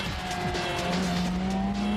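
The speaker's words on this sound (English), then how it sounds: "Judging by the sound of the engine, you'll have guessed that this is the one where the incredible new MRR was unveiled" The new BMW M RR motorcycle engine drones steadily at high revs, a continuous, fairly loud tonal whine with a rising pitch that fills the whole moment.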